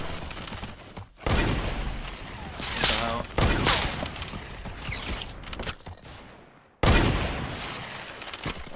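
Loud bursts of gunfire from the Fortnite video game in Creative Mode, with several heavy volleys separated by brief gaps and clattering, shattering debris mixed in, while players talk over the action.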